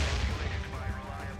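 A loud, booming gunshot effect from the video game Damnation, a deep cannon-like blast with heavy low rumble that holds steady for over a second.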